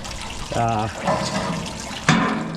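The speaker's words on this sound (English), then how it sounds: "they just tilt them over and they dump all the water right out" A livestock water trough is tipped over on a farm, water sloshing and gushing out in a splashy pour, with a second sharper splash toward the end; someone talks over it.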